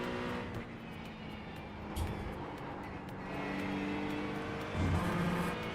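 An LMP2 prototype race car passes at Watkins Glen: a steady engine drone heard from inside another race car, rising slightly in level toward the end.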